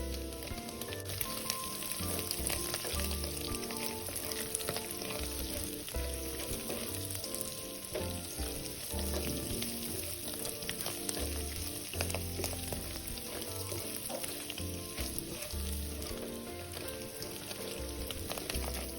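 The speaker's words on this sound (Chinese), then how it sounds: "一直炒到鍋裡食材溢出香氣後" Sliced Chinese sausage is stir-fried in a wok with dried shrimp, giving a continuous close sizzle and crackle of hot oil, broken by repeated scraping and tossing of a spatula against the pan.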